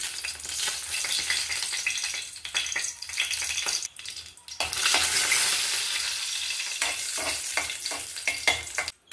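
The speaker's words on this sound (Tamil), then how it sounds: "எண்ணெய் ஊற்றிட்டு நம்ம முதல்ல வத்தலை போட்டு நம்ம வதக்க போகிறோம்." Dried red chillies fry in hot oil for a coriander-leaf chutney, giving a loud, close sizzle broken by bursts of stirring. The noise drops out briefly midway, then returns strong.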